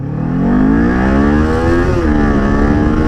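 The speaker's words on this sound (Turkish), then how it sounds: "Hızlanıyorum." A Kawasaki Z400 motorcycle accelerates from a stop, its engine loud and close, the revving pitch climbing steadily with a brief dip at a gear change before rising again.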